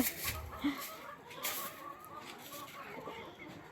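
Faint hen clucks, a few short soft calls scattered over a hissy outdoor background, fairly distant.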